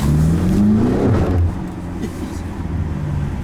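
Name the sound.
BMW X5M F85 engine revving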